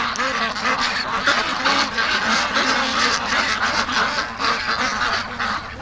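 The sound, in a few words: Muscovy ducks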